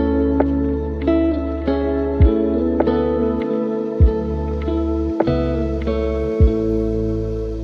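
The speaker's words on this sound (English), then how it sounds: "Together with everything, this is what the guitar part sounds like." Mellow lofi guitar plays over the full sleepy lofi mix, with sustained chords and plucked notes layered over steady low bass and a soft drum thump recurring roughly every second or two, loud and close with no talk.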